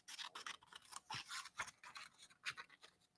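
Scissors cut roughly around a paper Santa figure, giving close, quiet, crisp snips and scratchy paper rustles in an irregular rhythm of short bursts with no voices.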